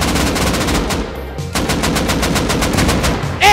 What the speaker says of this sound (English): We had more explosive ammo left, so we were gonna inflict some damage